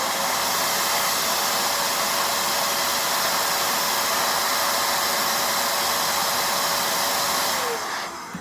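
A corded electric air duster blows through a long nozzle on its low setting from about an inch away, giving a steady, loud rushing hiss with a faint whine that cuts off at the end.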